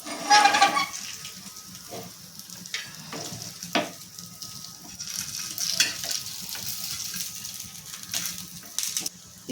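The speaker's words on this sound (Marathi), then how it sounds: "इथे आपण कटलेट जे आहे ते पलटी करून दोन्ही बाजूने छान शेकून घ्यायचे क्रिस्पी होईपर्यंत आपल्याला ते शेकवायचे आहे" Pea and potato cutlets fry in a pan, giving a soft, steady sizzle broken by occasional clinks and scrapes as they are turned, with a louder burst at the start.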